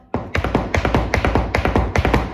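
Rapid, crisp flamenco zapateado heel-and-toe taps hit a hard floor in quick rhythmic bursts, loud and close, with no voices.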